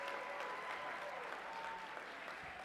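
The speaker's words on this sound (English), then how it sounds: "let's just give her a round of applause for coming out from Michigan" Sustained applause from a Texas Democratic Party convention audience in El Paso, a dense even wash of clapping from a large crowd that holds steady for the whole stretch.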